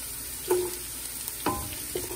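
Garlic and onions sautéing in a pan while seafood pancit is cooked, with a soft steady sizzle and a few clattering stirs of a utensil against the pan.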